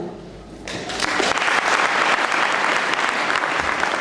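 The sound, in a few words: audience applause in school hall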